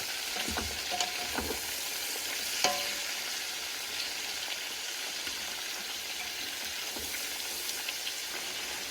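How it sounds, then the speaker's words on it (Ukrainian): Carrots and onions sizzle and crackle steadily in hot lard in a pan over medium heat, with a few soft stirring clicks and scrapes. "я зразу даю сюди моркву і цибулю"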